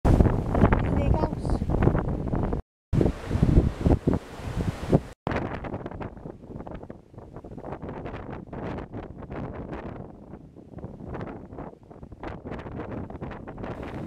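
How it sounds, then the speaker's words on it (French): Strong storm wind at a campsite buffets the microphone in heavy, roaring gusts, with brief cutouts, while a person talks in French over the blustery noise. "Le vent est tellement fort"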